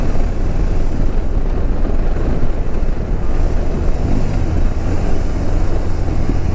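A BMW R18 B motorcycle cruising in sixth gear at 60 mph on the road, heard as a steady, loud drone of engine and road noise mixed with heavy wind rush, with no talking.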